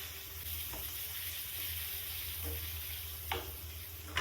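Ginger-garlic paste and green chillies frying in a pot for biryani, with a steady broadband sizzle and a few soft scraping stirs, moderately close, no voices.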